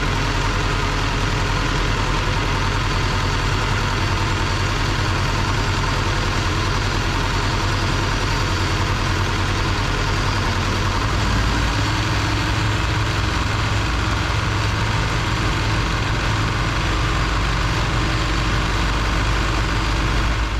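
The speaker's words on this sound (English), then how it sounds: "In just a second here, I turn the throttle up, which increases the RPMs." A diesel bulldozer engine with a fuel delivery fault idles steadily, a loud, close, continuous low rumble with a slight change in tone partway through and no speech.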